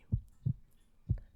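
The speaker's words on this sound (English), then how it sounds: "return your focus to your heartbeat and the sound" Slow, even heartbeat thumps, low and soft, three beats at a resting pace over a near-silent background.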